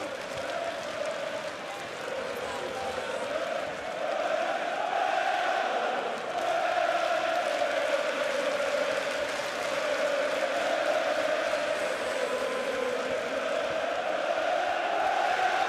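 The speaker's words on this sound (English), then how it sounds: "Like a 90s crowd, isn't it, now?" Crowd noise at a world title boxing fight between Josh Warrington and Carl Frampton, a steady loud roar of cheering and shouting sustained throughout with no break.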